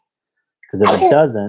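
A single close sneeze bursts out during a live travel-update broadcast, quickly followed by someone talking.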